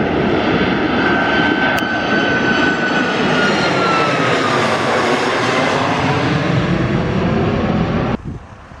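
A heavy airliner climbs out after takeoff from Zakynthos airport in summer, a loud, sustained jet engine roar with a shifting whine that sweeps past and then cuts off abruptly near the end.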